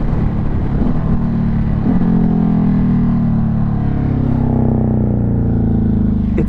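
Ducati Hypermotard 950 SP motorcycle with dual SC exhausts running steadily close by, a deep continuous engine drone with slight swells in pitch and no talking.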